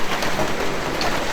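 Steady heavy rain falls on an open, roofless house, a dense continuous hiss of drops striking surfaces, loud and close with no voices.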